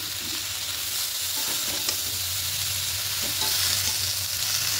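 Chopped red amaranth hits hot oil with frying spices and ground ginger, giving a steady close sizzle with soft stirring scrapes throughout and no voices.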